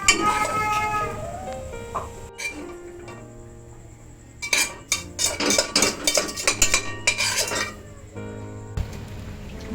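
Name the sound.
stirring cod in a cooking pot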